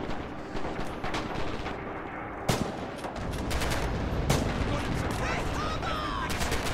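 Sustained suppressive gunfire in the World War II shooter Red Orchestra 2, steady rattling shots with a few louder blasts, set against a constant din of battle.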